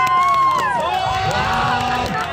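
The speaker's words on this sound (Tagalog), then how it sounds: "Ready naman, sigawan naman dyan! For Ace" A crowd at a Ronda Pilipinas 2022 cycling race stage awarding ceremony in Burnham Park, Baguio City, shouts and cheers loudly, with overlapping high yells and screams close by and continuous.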